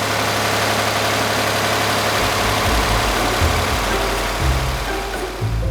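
A Fordson tractor engine cranks and catches, then settles into a steady, low rumbling idle with a rhythmic chug, close and loud, with no voices over it.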